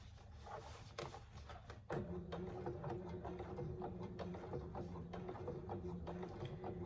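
A sewing machine stitches a Scarlett hobo bag, a quiet mechanical whir of rapid, even stitching that runs steadily after a brief fumbling of fabric.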